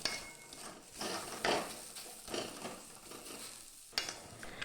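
A spatula scrapes and stirs thick banana-stem paste with coriander leaves and green chillies in a wok, sending out repeated close scraping strokes and knocks over a faint sizzle, with no talking.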